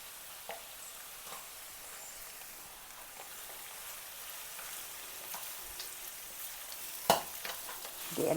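Cabbage is mixed and stir-fried into fish noodles in a hot pan, giving a soft continuous sizzle with occasional scrapes and clatters of the utensil, one sharper knock near the end, and no talking.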